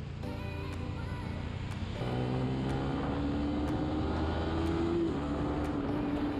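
A Sniper 155 motorcycle engine drones steadily while riding on a mountain road from Baguio toward Aritao, its pitch climbing gradually as it accelerates, with constant wind rush over the engine note.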